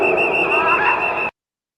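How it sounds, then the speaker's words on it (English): A single sharp, shrill referee whistle blast at a college football spring practice holds steady for over a second, then cuts off abruptly into silence. "Whistle blew. Right there. Whistle's blown."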